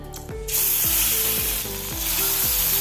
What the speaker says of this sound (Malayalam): രണ്ട് ടേബിൾ സ്പൂൺ വെളിച്ചെണ്ണ ഒഴിച്ചു കൊടുത്ത് നമ്മൾ കഴുകി വെച്ച ഉണക്കമുള്ളൻ പൊരിച്ചെടുക്കണം